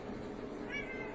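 A pet cat named Willie meows once, close by, a short harmonic cry standing out over a steady background hum with no talking.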